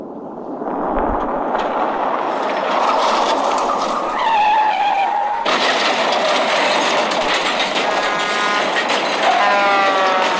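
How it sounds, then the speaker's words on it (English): A taxi ploughing through a red light into a massive multi-car pileup in city traffic: loud continuous roaring with tire squeals and screeching tones, then a sudden harsh burst of crashing and scraping that carries on to the end, no talk. "McGonagall plows right through a red light, causing a massive pileup"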